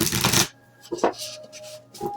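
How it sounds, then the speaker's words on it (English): A tarot deck being shuffled by hand: a dense riffling burst at the start, then a few softer separate card flicks and shuffles, close and fairly quiet, with no talk. "I'm going to set intentions as I shuffle."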